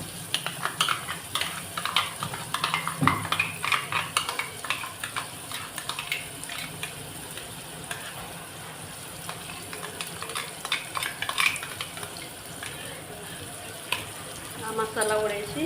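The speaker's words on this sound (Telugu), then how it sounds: "ఆ మసాలా కూడా వేసి నూనెలో బాగా వేపాలి." Tomatoes cooked soft with ground masala frying in oil in a pan, a steady low sizzle with occasional stirring scrapes running throughout.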